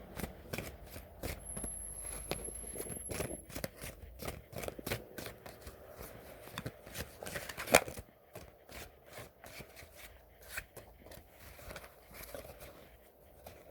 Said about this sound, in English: I'm going to shuffle them around.